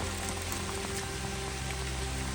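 Heavy rain falling on a fort trek at Sudhagad, a dense steady wash of drops with a low rumble underneath, continuous and close, no voices.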